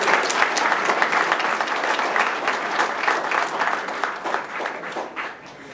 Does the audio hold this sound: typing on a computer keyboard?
no